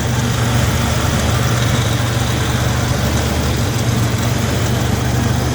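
A Buick Grand National engine idles steadily with a low, even rumble and faint vibration, continuous throughout with no voices.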